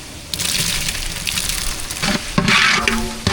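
Onions, green chillies and tomatoes frying in a pan for chicken biryani, a close sizzle that swells in bursts as ingredients are stirred or added, with a louder hiss near the end.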